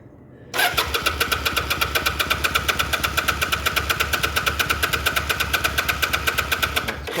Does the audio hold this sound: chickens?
no